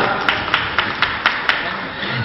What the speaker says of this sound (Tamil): ஒரு பலத்த கைதட்டு கொடுங்க